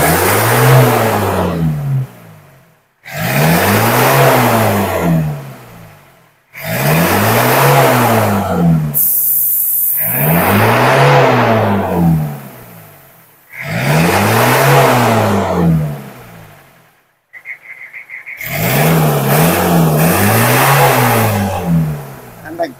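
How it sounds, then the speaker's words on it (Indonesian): A Toyota Kijang LGX engine, just treated with an engine cleaner and valve adjustment, is revved hard five or six times in a row, each loud rev rising and falling with short pauses between. "Dilakukan pengegasan lagi."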